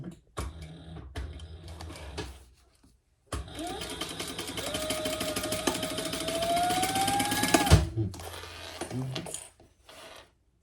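A sewing machine stitches a seam on a Speedwell sling bag. A few short bursts come first, then one long, loud, steady run of whirring stitches that stops abruptly, with light handling clicks around it.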